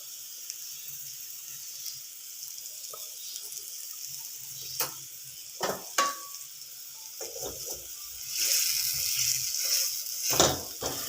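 Young jackfruit pieces frying in a little oil, a faint, thin sizzle broken by a few scraping stirs and clinks, swelling into a louder hiss near the end.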